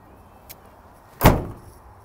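Tailgate of a 2013 Ram 3500 SLT crew cab pickup opening with a single solid clunk near the microphone, preceded by a faint small click and followed by a short fading rattle, with no talking.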